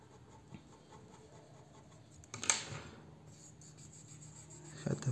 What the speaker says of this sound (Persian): ببینید خیلی کم رنگ دارم این خودکار رو میکشم